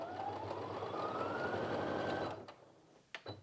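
Brother Innov-is F560 sewing machine stitching a zigzag, a fast steady mechanical whir with a rising pitch that runs for about two seconds and then stops, followed by a few small clicks.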